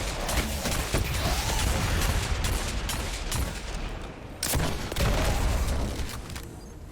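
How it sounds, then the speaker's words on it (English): Grenade blast and heavy gunfire in the shooter game Destiny 2, a dense continuous barrage of booming shots with a fresh loud burst partway through. "That grenade should take a few of them out."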